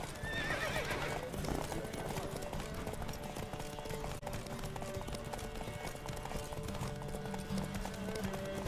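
In the video game The Witcher 3: Wild Hunt, rapid, steady hoofbeats of a galloping horse clatter continuously, with a whinny near the start.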